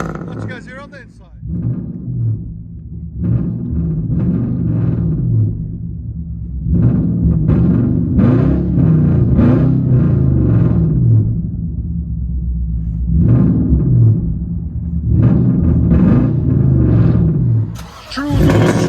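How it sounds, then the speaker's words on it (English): A straight-piped Infiniti M45 V8 rumbles at a loud, steady idle heard from inside the car, with a few small rises in revs and someone talking over the deep drone. "True little straight pipe. It is loud and proud. Here's that idle. Listen to that thing purr."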